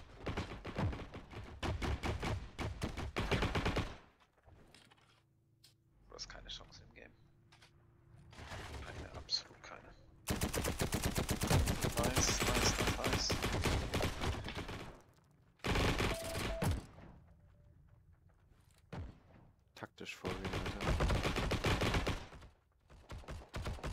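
Bursts of rapid automatic assault rifle gunfire in the video game Heroes and Generals, loud and dense, broken by short quieter stretches with mechanical clicks and thuds.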